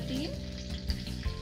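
Curry leaves and a few dried red chilies frying in hot oil for a tadka, a steady close sizzle with a couple of louder spits, while cooking kadhi with pakoras.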